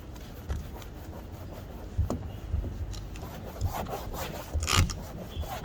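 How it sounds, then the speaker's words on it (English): Brick rubbed back and forth over a surface during mobile detailing work, a faint, gritty scraping with irregular strokes and a few louder scuffs, close and alone. "I'm just using the brick. See? Just to smooth it out."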